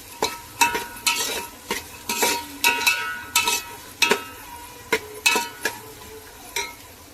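Vegetables for pulao, carrot and green peas, stirred with a utensil in a pot, giving a run of close scraping, clattering strokes in an irregular rhythm, with a light sizzle underneath and no talk.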